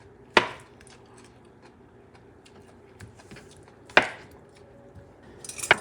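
A knife cuts tofu into small squares on a board, giving two sharp, distinct chops spaced apart with faint light taps between and a cluster of quick clatters at the end, close and clear.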